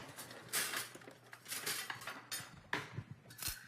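A metal whisk clinks rapidly against a bowl in several quick bursts of bright, close metallic taps, with no talking.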